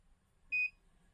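A Hornady Auto Charge Pro powder dispenser gives a single short, clear electronic beep when set to dispense, alone against a quiet background.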